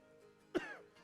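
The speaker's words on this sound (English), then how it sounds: "Sorry about the cough, by the way, everybody." A single short cough, close and fairly quiet, with a rough throaty burst.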